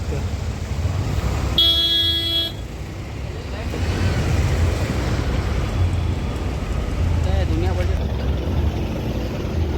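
Steady hum of road traffic backed up by roadworks ahead, with engines idling and passing, a loud car horn honking once near the start, and people talking over it.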